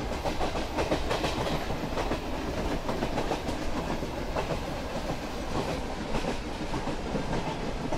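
Train running in Train Simulator PC on the Mumbai line, a steady loud rumble with rhythmic clickety-clack of wheels over rail joints, continuous and close.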